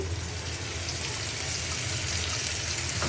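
Spice masala fries in a pan for a mud eel curry, giving a loud, dense, steady hiss that runs unbroken throughout.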